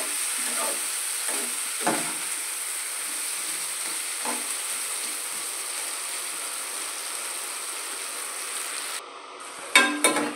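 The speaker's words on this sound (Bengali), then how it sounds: "আদা বাটা দিয়ে দিয়েছি, দিয়ে এবার ভালো করে এইটুকু জিনিস দিয়েই আমি আলুগুলোকে কষিয়ে নেব" Potatoes sautéed with ginger paste in a pan, a steady soft sizzle running throughout with a few scraping stirs, plus a sharper clatter near the end.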